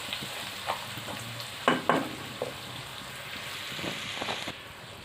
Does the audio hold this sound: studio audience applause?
no